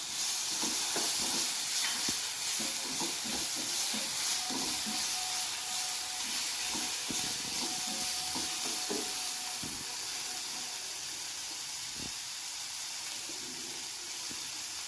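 Oil sizzles and hisses steadily in a hot pan as tomatoes go in for a paneer snack, with a broad, continuous crackle and scattered soft clicks and stirs underneath.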